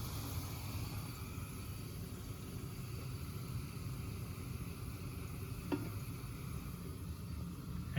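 Chopped garlic browning in a hot pan gives a steady, even sizzle with soft crackle. It runs close and continuous throughout, with no voices over it.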